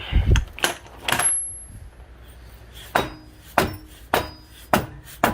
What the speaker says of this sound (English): Now we're going to take our dead stop and see if we can tap this CV Axle back